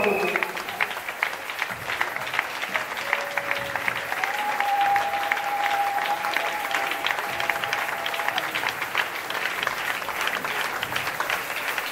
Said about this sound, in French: Nous nous levons et nous acclamons le Seigneur.